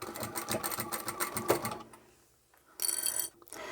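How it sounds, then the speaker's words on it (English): Sewing machine stitching a seam on a scrap-fabric double-sided zipper pouch, a rapid rhythmic mechanical whir that runs, pauses briefly, then resumes in a short burst, close and clear. "Then I'll come down and sew this seam and then this one."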